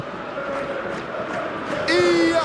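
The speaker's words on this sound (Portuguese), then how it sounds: "A torcida faz um barulho realmente muito grande." Simulated stadium crowd from a PES football match, Benfica versus RB Salzburg in the Champions League, a steady broad roar that swells louder near the end with a brighter burst, no talk over it.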